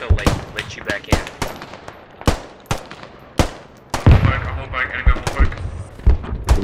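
Rifle gunfire in the Squad combat game: many sharp shots, single and in quick bursts, some close and loud, others farther off, with a busy stretch of rapid fire near the end as voices call out underneath.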